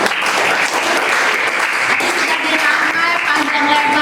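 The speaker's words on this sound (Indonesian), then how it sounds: "kita berikan tepuk tangan yang" Steady applause from a room full of people, dense and continuous clapping at full volume throughout, with no talk over it.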